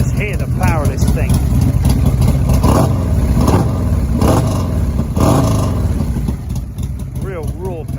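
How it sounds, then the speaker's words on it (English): A full-race ECU-tuned Buell Thunderbolt motorcycle engine rumbles loudly and rises in several rev blips, close and heavy, with a person talking over it throughout. "This is a full race ECU tuned up Buell Thunderbolt."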